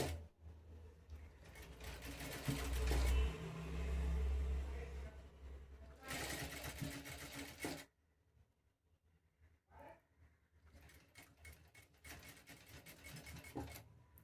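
A sewing machine stitches around the folded edge of a straight-cut kameez in bursts, running fast for several seconds, pausing briefly, then starting up again with quieter intermittent stitching.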